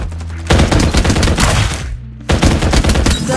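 Gunfire in the Farlight 84 battle royale game: two loud, rapid automatic bursts of shots, split by a brief pause, close and dominant.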